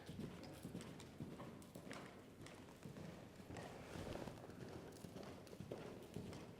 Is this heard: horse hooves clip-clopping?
yes